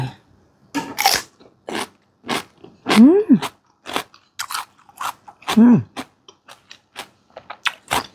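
Someone bites into and chews food at close range: a series of sharp crunchy bites and chewing bursts with short silent gaps, plus a couple of brief hummed or voiced sounds.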